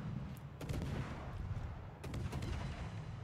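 Naval guns fire at the Salem, a warship in a naval battle video game, with a few heavy booming salvos over a low rumbling backdrop, fairly distant and muffled.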